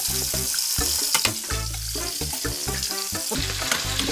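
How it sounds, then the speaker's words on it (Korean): Butter melting and sizzling in a pan alongside steak, a steady hiss running under prominent tonal background music throughout. "버터를 넣어줍니다. 버터 많이 넣으셔도 돼요."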